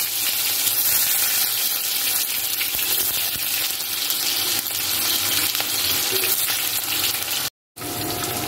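Cut potatoes, onion and a little tomato fry in oil in a wok, making a steady, bright sizzle throughout with faint stirring noises and no talk.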